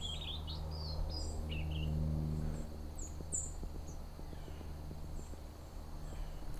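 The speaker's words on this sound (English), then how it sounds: "There's a white-throated sparrow that was singing." A juvenile white-throated sparrow in autumn practices its song: thin, high whistled notes that come in short, uneven phrases over a steady low hum and faint background noise.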